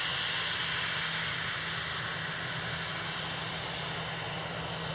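An EasyJet airliner at Edinburgh Airport gives off a steady, broad jet roar at moderate distance, unbroken for the whole stretch, with no voices over it.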